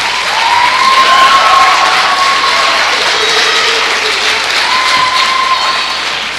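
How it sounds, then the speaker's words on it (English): A crowd at a school science fair applauds loudly and steadily for several seconds, dense clapping mixed with a few cheers and children's shouts, fading slightly toward the end. "if you could please give them a round of applause too"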